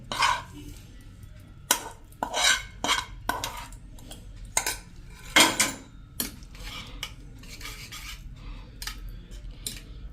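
A spoon clinks and scrapes against a bowl while corn and onion are mixed into a batter, in irregular sharp clatters separated by quieter pauses.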